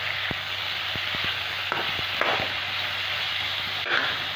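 Tomatoes fry in a hot pan for a besan sabji, giving a loud, steady sizzle with scattered crackles and pops and a few soft stirring knocks, with no voices.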